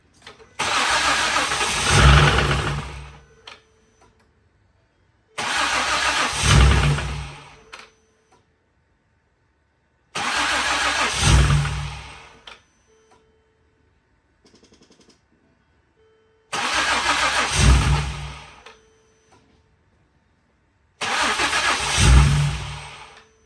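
A Ford 3.5 V6 engine cranks five times in separate bursts of about three seconds each, with short silent gaps between them. The cranking is close, loud and heard alone, and the engine does not catch.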